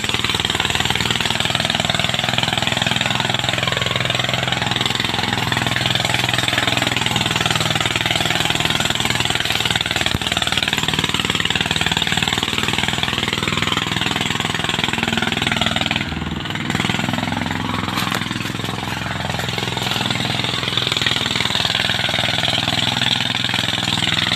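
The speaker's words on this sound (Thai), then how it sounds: "โอ้ตายเหยียบคันเร่งมิดเลยฮะ" Overloaded Thai e-taen farm vehicle with its accelerator floored, the engine roaring loud and close in a continuous, rough, hammering drone that barely varies, with a brief dip near the end.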